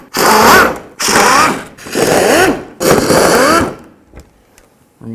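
Power tool spinning out 10mm bolts from the skid plate of a 1997-2005 Lexus GS300, four loud close bursts of whirring, each about a second long with short gaps between, then a few faint clicks.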